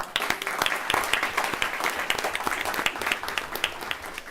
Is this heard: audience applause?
yes